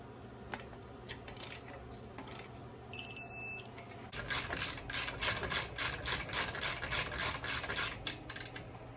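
A ratchet tightens bolts during an alternator install on a serpentine drive, starting with scattered clicks, then a quick run of loud close pawl clicks after a brief electronic beep, with no talk.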